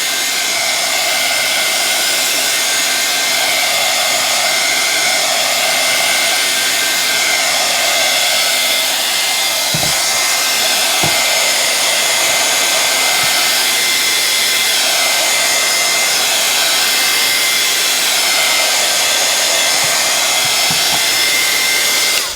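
A hair dryer blows on the back of a mixed media canvas, producing a loud, continuous, close whooshing roar that runs without a break and with no talking.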